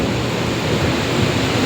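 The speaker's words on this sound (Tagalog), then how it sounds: "Ang lakas pa rin ng ulan." Heavy rain pours down in a dense, steady roar of noise, loud and close, with no pauses.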